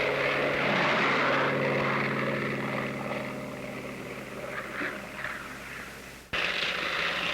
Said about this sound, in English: The Navy Bearcat seemed to be all propeller and engine.